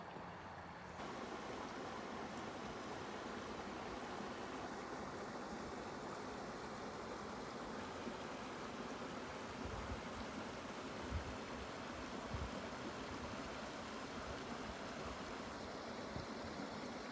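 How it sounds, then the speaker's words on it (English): A small mountain waterfall high in the Utah mountains, around 9,000 feet, gives a constant broadband rush of falling water, steady and fairly distant with a few low thumps of wind against the microphone. "That's a good little waterfall."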